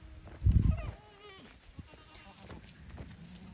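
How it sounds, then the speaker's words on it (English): Goats bleat while begging for food at morning feeding time on a farm, one loud close bleat followed by fainter scattered calls and shuffling. "Let's go to the goats. Goats, come on."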